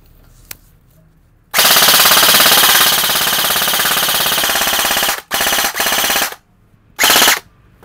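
A CYMA MP5 PDW airsoft gun fires full auto in a long, loud, continuous burst of rapid mechanical cycling, then two shorter bursts and a final brief one, with quiet pauses between.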